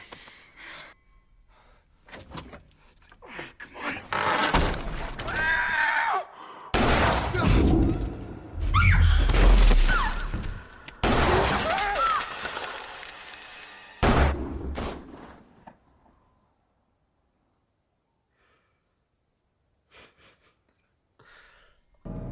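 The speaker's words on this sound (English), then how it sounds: "That gunshot." Several sharp, loud gunshot bursts from the horror film Don't Breathe (2016) amid tense gasps and muffled voices, followed by a long stretch of near silence.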